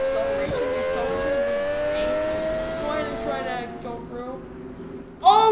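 A Toyota Supra spinning out in the Roblox game Vehicle Simulator, heard as a sustained engine whine with slowly sliding pitch that fades, then a sudden loud burst near the end.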